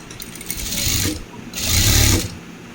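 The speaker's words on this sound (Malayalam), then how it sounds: "ഈ ക്രോസ് പീസിൻ്റെ ഒരരിക് ഭാഗം ഇങ്ങനെ മടക്കി തയ്ക്കുക" A sewing machine stitching down the folded edge of a uniform cross piece, two separate bursts of fast whirring run close up, each lasting about a second, with brief pauses around them and no talking.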